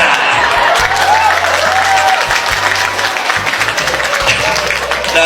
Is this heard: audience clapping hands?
yes